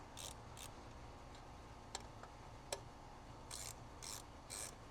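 A ratchet with a 10 mm socket loosens bolts during an oil catch can install on a 2010-2015 Camaro SS, giving a few quiet bursts of clicking with brief metallic taps between them, close by and without talk.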